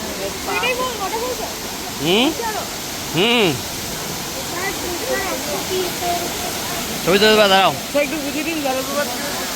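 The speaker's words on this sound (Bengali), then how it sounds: "জলটা উপর থেকে নিচে পড়ছে ঝর্ণার সৃষ্টি হচ্ছে বা একটা ছোট ওয়াটারফল সৃষ্টি হচ্ছে" Bamani waterfall in the Ajodhya hills: a steady rushing hiss of falling water fills the background while people talk over it.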